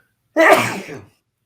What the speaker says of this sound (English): I don't think I've ever sneezed on air before